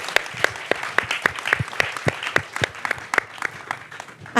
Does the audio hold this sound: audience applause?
yes